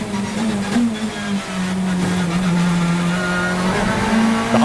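BTCC touring race cars at Snetterton roar past with loud sustained engine drone, steady revs rising slightly, one engine note dominating over the pack, continuous and close throughout.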